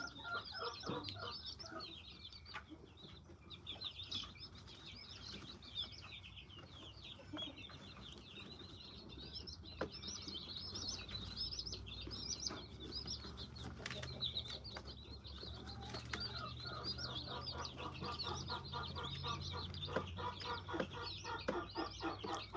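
A mixed flock of chicks and chickens of several breeds, including Isa Browns, fills a coop with continuous busy clucking and high chirps, with occasional wing flaps, at moderate distance.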